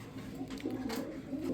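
A short face pigeon coos in a low, throaty, continuous rumble, close and fairly soft, with a faint background hiss.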